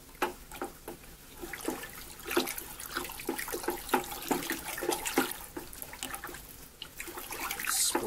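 A sponge splashing and sloshing around in a bucket of freshly mixed liquid pottery glaze, giving close, irregular wet swishes and drips that continue throughout without speech.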